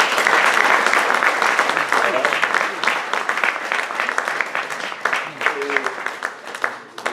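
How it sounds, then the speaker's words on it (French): Audience applause at a French tribute, dense sustained clapping from a crowd filling the room, with faint voices mixed in underneath. "je vais vous demander à tous de l'applaudir d'abord"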